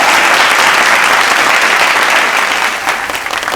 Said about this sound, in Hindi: जोरदार तालियों से स्वागत कीजिए सनी जी का